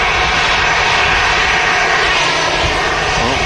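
An EasyJet airliner arriving at Manchester Airport, its jet engines roaring loud and steady at close range throughout, with a broad continuous rush and no voices.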